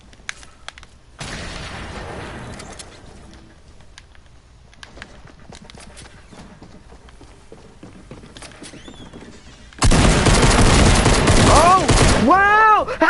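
Rapid bursts of video game gunfire, a loud dense volley near the end after quieter scattered shots, with a player talking over parts of it.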